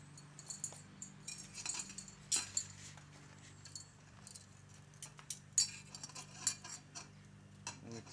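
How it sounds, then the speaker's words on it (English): Lid being fitted onto a hop rocket, a series of faint, close metallic clinks, taps and small scraping sounds scattered irregularly over several seconds in an otherwise quiet room. "So I'm just going to put our lid now onto our hop rocket."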